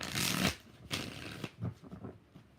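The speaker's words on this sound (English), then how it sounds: "5 shuffles." A deck of tarot cards is shuffled by hand in several quick riffling bursts, close and fairly soft, with short gaps between.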